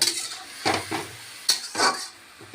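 A metal lid goes onto a cooking pot of mixed winter greens with several sharp clanks and clatters, close and loud, over a faint sizzle.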